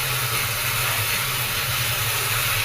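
Ground spices with turmeric, cumin, chilli, coriander powder and salt sizzle as they are sautéed in a pan, giving a steady, close, broadband hiss and crackle throughout.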